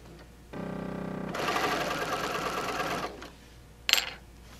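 A sewing machine with a walking foot quilting at a lengthened stitch, running in a steady close buzz for about two and a half seconds, then a brief louder burst, with no talking.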